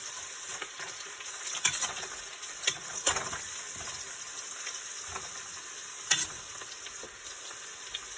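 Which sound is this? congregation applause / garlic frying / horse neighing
garlic frying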